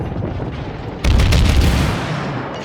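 Heavy naval guns boom in a naval battle game, one loud sudden blast that swells into sustained rumbling fire and slowly fades, alone with no talk.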